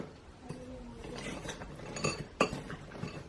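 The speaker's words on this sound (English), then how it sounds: "I'm gonna mix this in before the chocolate chips" Spoon stirring matcha cookie batter in a bowl, with close scraping strokes and a few sharp clinks against the bowl, alone without talk.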